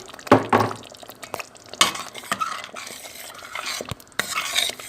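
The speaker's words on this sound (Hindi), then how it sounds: "अब इसको अच्छी तरह से हम तकरीबन 15 मिनट तक लो फ्लेम पे भूनेंगे" Boiled beef stir-fried in masala over low flame, a spoon scraping and clinking against the pot in irregular strokes over a soft sizzle.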